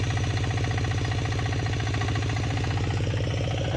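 A tractor engine works a farm field in Konkan, a close, steady low throb with a fast even chug that continues without a break.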